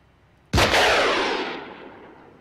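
A single loud gunshot cracks in an Arma 3 military simulation mission, bursting suddenly and then rolling off in a long, fading echo over about two seconds, with no voices.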